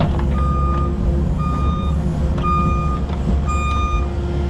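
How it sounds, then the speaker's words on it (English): A truck at a soil remediation site reverses, its backup alarm beeping steadily about four times over a loud, constant diesel engine rumble, with no voices. "So the second truck for today is here."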